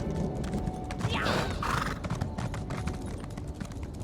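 A horse's hooves clip-clop steadily in The Elder Scrolls Online, a run of evenly spaced, fairly close footfalls with a brief louder burst of game noise early on.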